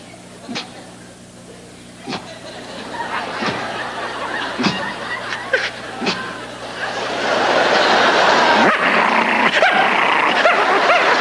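A man vocally imitates a dog with a flea, making growls, whimpers, yips and snorting bursts that grow louder and more frantic toward the end, heard close and alone.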